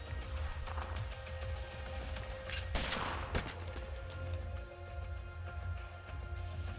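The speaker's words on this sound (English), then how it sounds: "Gunfire." Gunfire from the video game Reverse Collapse: Bakery Girl, with quiet rapid bursts of shots and a couple of sharper cracks over a low, steady background hum.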